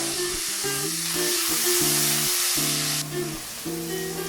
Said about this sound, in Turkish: Mantarlarım yaklaşık 3 dakika boyunca orta yüksek ateşte piştiler.